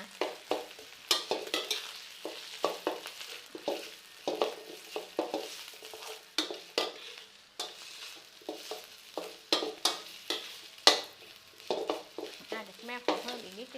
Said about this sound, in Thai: คราวนี้เราก็ จะทำการนะผัดพริกเนาะผัดพริกแกงให้เข้าหอมๆเนาะ